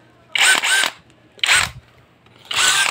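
A Lotus CX 20V brushless impact drill bores into cement in three loud, close bursts, with short pauses between them and no talking.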